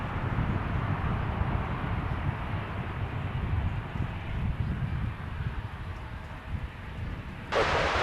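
An airliner departing Dallas/Fort Worth Airport gives a steady, loud low roar that holds across the whole stretch, blended with wind rumble on the microphone and no voices.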